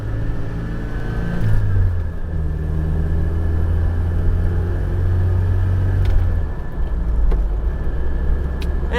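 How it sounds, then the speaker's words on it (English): A 1986 Ford Aerostar with a manual transmission revs up and shifts through the gears, close engine drone climbing in pitch, dropping at each shift, then rising again, loud and continuous. "this engine works pretty hard anyhow because anytime you need to climb any sort of incline, you're going to be revving it out"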